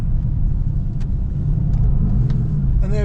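Car pushed into oversteer on a low-grip, low-friction surface, giving a continuous loud engine and road rumble with brief higher squeals and a rising whine near the end.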